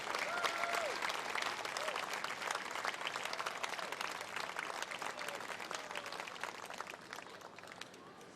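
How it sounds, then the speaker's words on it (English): Audience applause at a small-town tomato festival pageant as the outgoing queen makes her final walk, a long sustained wash of clapping with some crowd noise and faint voices underneath, gradually tapering toward the end. "How about a round of applause as Kendall makes her final walk as"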